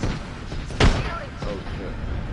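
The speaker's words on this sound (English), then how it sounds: "Tossing a frag." A frag grenade detonates in a video game: one loud, sudden blast rises above steady game ambience and fades quickly, with faint activity continuing afterward.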